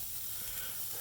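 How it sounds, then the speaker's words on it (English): Frozen burger patties sizzle on a NextGrill gas grill, a loud, continuous close-up hiss and crackle of fat cooking. "You can really hear that nice sizzle for all of you who like that."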